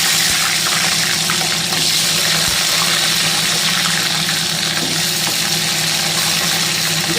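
Whole peeled large onions dropped into hot oil for a Tamil tomato curry, giving a steady loud sizzle and hiss that fills the whole stretch without pause.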